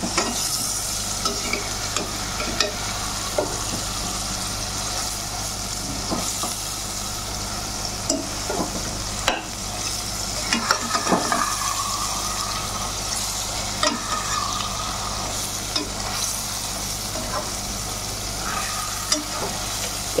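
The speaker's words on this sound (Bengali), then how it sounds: "এখন মাছগুলোকে আমরা পাল্টিয়ে দেব।" Dhakai fish sizzles in a pan over high heat, a constant loud fry punctuated by scattered clicks and scrapes as the pieces are turned, with no voices.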